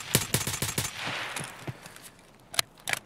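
A quick burst of several rapid gunshots opens the scene in the video game Escape from Tarkov, followed by a quieter pause and two more sharp shots near the end, fairly close and crisp.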